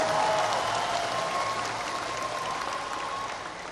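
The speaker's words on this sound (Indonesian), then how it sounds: "Tepuk tangan untuk para pejuang reformasi kita." Dense, sustained applause at a volunteers' gathering marking 25 years of reform in Indonesia, for the reform fighters, a broad crowd roar of clapping that slowly tapers without a break.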